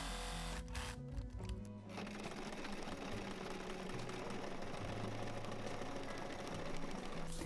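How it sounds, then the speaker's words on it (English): Sewing machine stitching bias tape onto plastic scraps, a steady close rapid mechanical whirr running almost continuously after a short pause near the start. "I'm going to sew all around it with some more bias tape"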